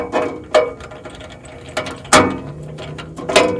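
Ratchet wrench tightening the bolts of a Miller Cat Shield catalytic converter guard under a 2010 third-generation Prius, with loud, close clicking bursts at irregular intervals and brief quiet gaps between them.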